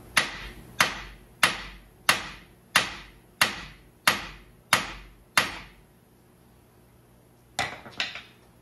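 Eight evenly spaced hammer blows near a wire ring out in a steady rhythm, then a pause followed by two quicker strikes; sharp metallic impacts, close by, no talking.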